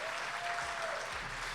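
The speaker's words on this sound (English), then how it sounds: "a huge round of applause for our panelists here" An audience at a live sports and community panel at Dick's Drive-In claps for the panelists, a brief steady burst of applause from a modest crowd.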